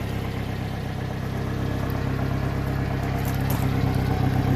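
A John Deere minitruck engine idles steadily at close range, a dense, even mechanical hum with a faint rhythmic pulse that holds throughout, swelling slightly near the end; no voices.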